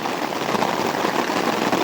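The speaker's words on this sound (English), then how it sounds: "pretty sure this was the rain we were expecting" Dense, steady patter of rain drumming on a tarp overhead, loud and unbroken without voices.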